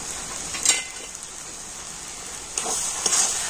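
Grated raw papaya fries in a pan with cumin and coriander powder, a steady close sizzle with a few louder crackles and stirring scrapes, no voices.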